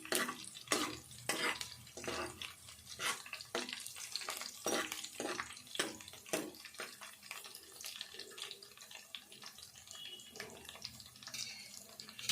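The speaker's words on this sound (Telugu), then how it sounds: "ఎల్లిపాయలు కొద్దిసేపు వేగాలి." Crushed garlic fries in a pan at home while a utensil scrapes and stirs in irregular clicks over a soft steady sizzle.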